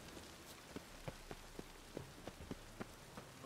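Steady rain patters on a surface in the video game The Witcher 3: Wild Hunt, with scattered heavier drops tapping irregularly throughout; soft and fairly distant, no voices.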